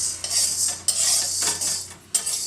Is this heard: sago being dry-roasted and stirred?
yes